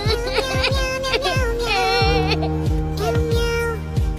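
A cartoon cat cries in a series of loud, wavering meows and wails, close and insistent, with rhythmic thumping music beneath.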